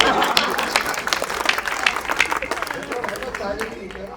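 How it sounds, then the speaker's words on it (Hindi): Audience applause and clapping greet a Hindi comic poet as he is invited onto a stage, a dense, steady patter of many hands that runs for about four seconds and slowly thins toward the end. "जोरदार तालियों से लटूरी लट को आमंत्रित करिए।"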